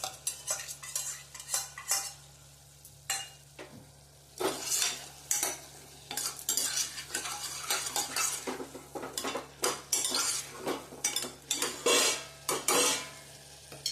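Spiced mixed vegetables being stirred in a pan, with a utensil scraping and clinking in a steady run of strokes over a low sizzle and a constant hum, close and fairly loud with no voices.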